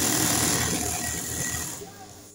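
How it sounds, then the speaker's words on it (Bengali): A sewing machine stitching a half-inch folded border on a pant leg runs in a fast, dense mechanical whir close by, then slows and fades near the end. "এখন আমি পায়ের বর্ডারটা এই যে দেখো 1/2 ইঞ্চি পটে নিয়ে সেলাইটা করে দিচ্ছি"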